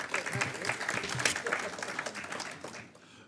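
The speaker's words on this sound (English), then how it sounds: "Give Jason a clap." An audience at a laundry and dry cleaning industry awards ceremony applauds an award presenter with dense, steady clapping that fades slightly toward the end.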